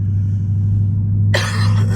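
Steady low engine rumble from a Dodge Scat Pack cruising in eco mode, a constant drone that turns into a louder, broadband rush of road and wind noise partway through.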